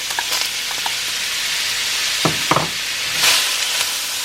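Onions, green onions, garlic and bean sprouts fry in a pan for shrimp fried rice, giving a steady close sizzle with a few sharp clinks and scrapes of stirring.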